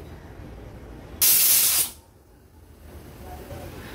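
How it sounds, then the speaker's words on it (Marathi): A pressure cooker of dal and red pumpkin lets out one loud, steady steam whistle that lasts under a second, then cuts off sharply and leaves a low background hum behind, with no talk. "आता आपण झाकण लावून फक्त 1 शिट्टी काढून घेणार आहोत."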